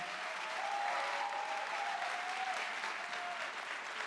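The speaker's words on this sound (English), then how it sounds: "One final round of applause for our speakers." An audience applauds the speakers at the end of a panel discussion's question-and-answer session, a steady, even wash of clapping that holds throughout, heard from a distance and fairly soft.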